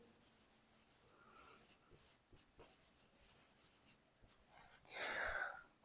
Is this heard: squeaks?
no